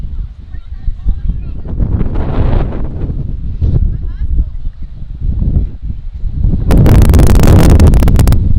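Gusty wind buffets the microphone at a high school varsity softball game, Refugio at Agua Dulce, as a commentator talks throughout, with a loud roaring gust swelling near the end.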